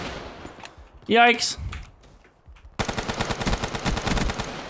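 Rapid automatic gunfire in a multiplayer shooter video game, a dense sustained burst filling the second half after a brief spoken exclamation and a quieter stretch.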